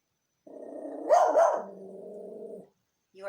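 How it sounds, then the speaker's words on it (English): A Yorkie barks close by in a rapid burst of yappy barks, sharp and loud, followed by a sustained whining yelp that trails off, then another bark starts at the end. "Yorkie barks at everything that walks by."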